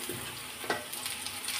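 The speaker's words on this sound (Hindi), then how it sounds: "अब इसमें हम चिकन डालेंगे और 5 मिनट हम इस चिकन को भी फ्राई करेंगे" Chicken frying in a pan with browned onions, a quiet, steady sizzle with a few light stirring scrapes, no talking.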